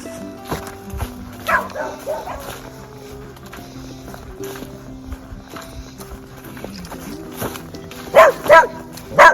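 Several barks from a dog on a walking trail along the Suwannee River, close and loud, arriving in scattered bursts with footsteps and rustling between them.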